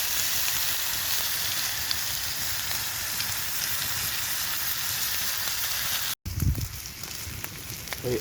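Bacon fries on a grill over a campfire with a dense, steady crackling sizzle and faint pops, close and continuous, briefly interrupted near the end before resuming with some handling bumps.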